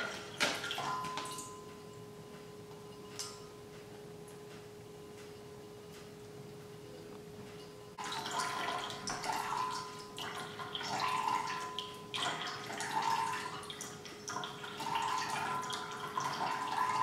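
Tap water runs in a steady stream at a sink for a static-electricity balloon experiment, quiet at first with faint drips and ticks, then a louder gushing flow for the second half, with a constant hum underneath.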